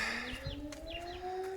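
A nightingale sings short, bright whistled phrases over a steady, droning air raid siren in the background.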